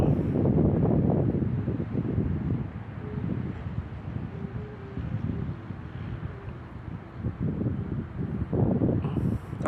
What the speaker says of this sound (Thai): ลมเบามากนะครับ